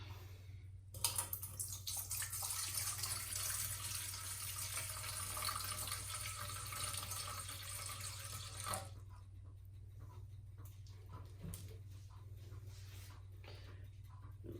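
Distilled water poured from a very full jug into a container while weighing out a soap base batch, a steady close pouring rush lasting about eight seconds before stopping, followed by quiet room tone with a few faint clinks.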